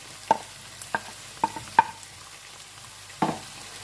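Medium-sized chopped onion fries in a pan for potato keema, a soft sizzle under several sharp scraping clinks of a spoon stirring, close and fairly quiet, with no voice.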